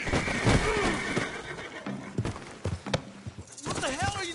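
Horse in Red Dead Redemption 2 letting out several whinnies, one near the start and a louder, wavering neigh near the end, mixed with hoof clatter and voices talking.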